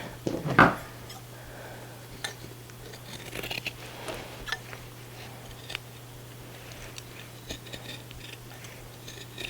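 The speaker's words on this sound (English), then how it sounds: "Going through multiple layers of denim. Make sure I'm not going to try to cut a rivet or something." Scissors cut through several layers of denim from old jeans along a side seam near the pockets. Snipping and crunching sounds come at irregular intervals, close and fairly quiet, with a steady low hum underneath.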